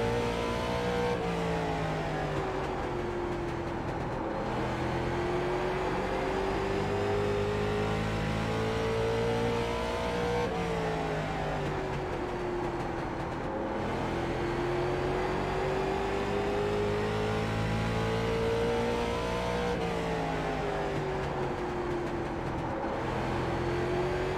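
Late Model stock cars racing at New Smyrna in iRacing, a steady loud engine drone that rises and falls through gear shifts and throttle changes across the whole stretch, with no talk.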